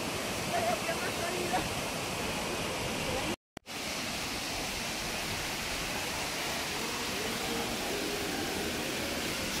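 Los Prismas waterfall at Huasca de Ocampo, with water pouring over basalt prism columns, roars as a steady, loud broadband rush that continues almost unbroken, apart from a brief cut partway through.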